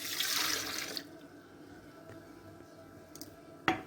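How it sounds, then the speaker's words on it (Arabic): Milk from a cup splashes into chocolate cake batter in a bowl, a close rushing pour lasting about a second before it fades to quiet, followed later by a sharp clink. "هننزل كده بكوبايه الحليب"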